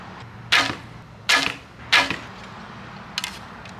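Three bow shots with string silencers fitted, each a sharp muted thwack with a brief buzzing decay, evenly spaced, then a faint double click afterward.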